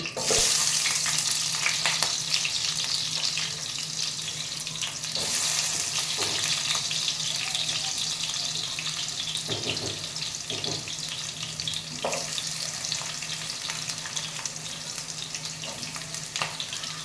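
Onion sizzles steadily in hot oil, a constant crackling hiss with a few soft scrapes of stirring, no voices.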